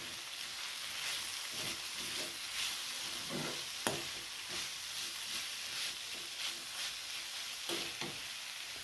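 A spoon stirs salt into a pan of beans cooking in a Maharashtrian dish, soft scraping strokes repeating over a gentle steady sizzle, with one sharper clink partway through.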